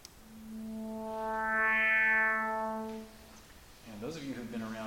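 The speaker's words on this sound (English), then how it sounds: "that's the sound of FM when someone gets out of control with the index knob" FM synthesis tone with the modulation index pushed too high, a single sustained buzzy note that swells brighter and harsher in the middle, then cuts off before a voice speaks.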